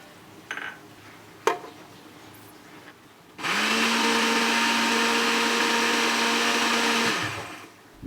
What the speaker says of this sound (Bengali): এখন আমি কুচি করে আপেল দিয়ে দেব এবং ভালো করে ব্লেন্ড করে নেব